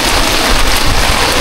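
Steady heavy rain drums close by at a campsite during the monsoon season, a dense continuous patter with no voices.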